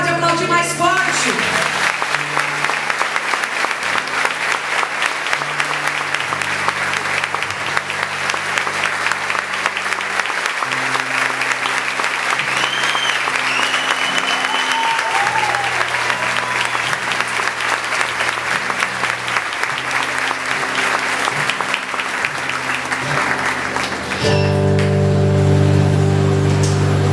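Loud applause from an audience at a church event, sustained throughout with musical tones and a voice under it, swelling again near the end.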